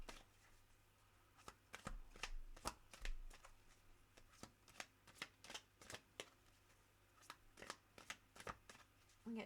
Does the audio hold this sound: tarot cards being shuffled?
yes